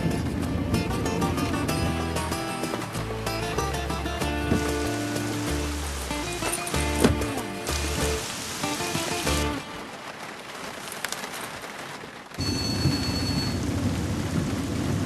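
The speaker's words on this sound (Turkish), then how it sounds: "Oo baksana nasıl yağıyor." Heavy rain pours steadily while thunder rumbles, with music playing over the storm and a brief drop in the middle.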